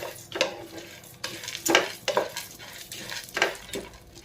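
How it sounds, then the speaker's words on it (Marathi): Dry fruits and seeds roasting in ghee in a pan for sugar-free laddus, stirred with a spoon that scrapes and knocks against the metal in several rhythmic bursts over a faint sizzle. "ह्या सगळ्या बिया हे पण तुपामध्ये चांगलं भाजून घ्यायचं"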